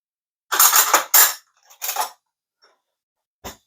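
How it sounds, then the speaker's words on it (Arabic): A small metal spoon clinks and scrapes against a bowl while olive oil and spices are mixed, in several short bursts of rattling strokes with pauses between them, then a final single tap. "معلقه صغيره كده، وبنخلط كله في بعضه"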